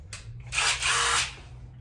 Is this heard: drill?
yes